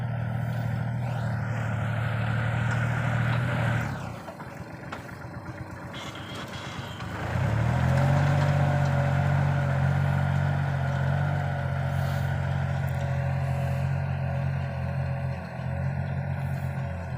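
A Kubota L3608 or L4018 tractor plowing a field runs with a steady, loud diesel drone that dips briefly, then returns stronger and holds a constant tone with no speech.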